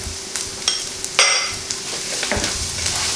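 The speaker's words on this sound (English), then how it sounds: "I'm gonna mix this into the peas thoroughly until the spices are cooked" A spoon stirs coriander powder and garam masala into peas in a pan, with a few sharp clinks and scrapes over a low, steady sizzle.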